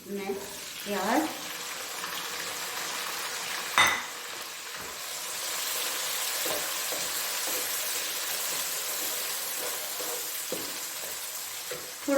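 Onions frying in a pan for bhindi masala give a steady sizzle throughout, with a few clinks of a utensil against the pan and brief talk near the start.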